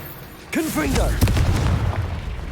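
A Confringo spell blast in Hogwarts Legacy bursts into a loud boom with crackling debris, following a voice that calls out at the start.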